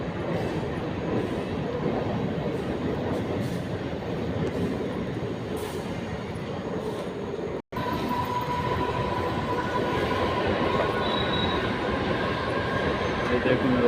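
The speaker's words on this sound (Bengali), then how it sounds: "এই দেখুন লোকাল ট্রেন যাচ্ছে পিছনে" A local train rumbles past in the background with a steady, loud rolling roar of wheels on track that lasts throughout, briefly broken by a momentary dropout, with faint squeal and no clear talk.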